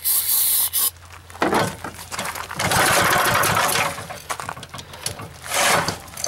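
A small pull-cord engine being cranked and trying to fire, giving rough rasping bursts of sputter and cord noise that rise and fall in uneven surges, close by.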